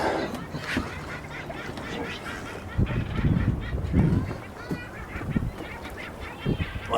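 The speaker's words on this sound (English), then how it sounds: "Lots of birds." Many seabirds honk and squawk in a dense, overlapping chorus near a sailboat in Harrow Strait, with louder bursts breaking through a steady rush of wind and water.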